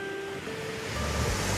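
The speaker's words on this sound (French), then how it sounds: "Avec la plage, on voit qu'il y a des bonnes vagues" Waves washing onto a sand and rock beach at Coin du Banc in Gaspésie, a soft surf rush growing slightly louder over a brief stretch, with faint wind.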